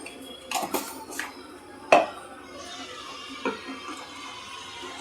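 Water is poured into a pan of egg curry in a few short splashes and clinks, close and moderately loud, with quieter gaps between and no talking.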